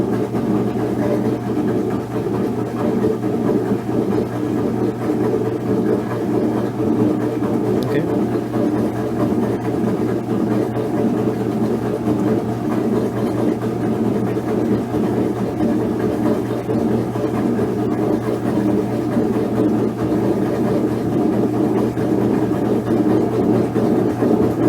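A Whirlpool Cabrio top-load washer with a bad bearing ramps into its spin cycle, a continuous low motor hum and drum whir droning steadily and loudly throughout.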